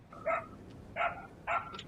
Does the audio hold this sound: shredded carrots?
no